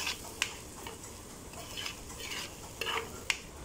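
A spoon stirs gooseberry (amla) pickle in a pan, with a soft sizzle underneath and a few sharp clicks of the utensil against the pan, close and fairly quiet.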